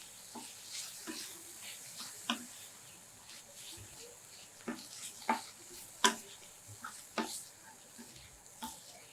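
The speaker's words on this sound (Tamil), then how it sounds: "தேங்காய் துருவல் சேர்த்துட்டு கொஞ்சம் ரோஸ்ட் பண்ணணும்" Grated coconut roasts in a pan for black-eyed bean masala, with a soft, steady sizzle and occasional sharp scrapes and taps of a spatula stirring, fairly quiet.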